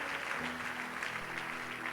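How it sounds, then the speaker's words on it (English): A church congregation at a sermon conference claps together in a continuous, moderately distant round of applause, with faint voices under it. "please give a hand of applause for everyone who's here?"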